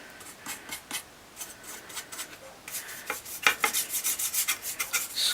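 A paintbrush scrubs paint onto a homemade prop machete in short rough strokes, at first sparse and then in a faster, louder rhythmic run of rubbing bursts, close up with no talking.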